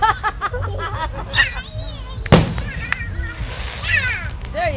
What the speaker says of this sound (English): Fireworks, honey.